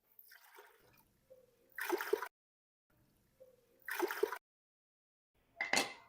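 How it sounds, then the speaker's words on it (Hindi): Three separate bursts of water splashing and pouring, each a short rush of water into a cooking pot of mixed dal, with quiet gaps and faint clatter between. "3 गिलास मैं इसमें पानी शामिल कर दूंगा"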